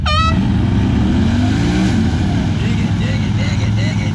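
A Honda Talon side-by-side straining in a tug of war, its loud engine droning steadily with a gear change partway through, while voices talk over the constant roar.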